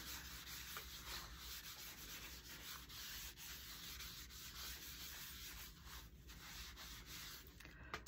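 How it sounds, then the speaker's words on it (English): A finish is wiped back on a small wood scrap project, a soft, continuous rubbing and brushing against the wood, quiet and close, with no talk. "Right, I need to wipe that back."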